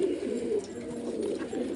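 Pigeons coo in soft, continuous, overlapping throaty murmurs nearby, steady for the full short stretch.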